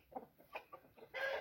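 A blue porcelain Brahma hen gives a quick series of soft, close clucks that build into a louder, drawn-out squawk at the end.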